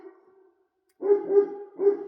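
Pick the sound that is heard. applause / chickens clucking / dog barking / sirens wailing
dog barking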